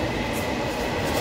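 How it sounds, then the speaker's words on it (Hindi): A metro train pulls into a raised station platform with a loud, close, continuous rolling rumble and no talking. "आ गई मेट्रो।"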